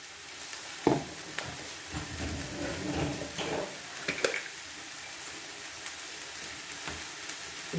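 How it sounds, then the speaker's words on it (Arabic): Spiced filling for Moroccan cigars is sautéed in a pan, with a soft, steady stir-fry sizzle and a few sharper scraping knocks of the spoon against the pan, close by and without voices. "وغادي نشحر الحشوه ديالي واحد شويه"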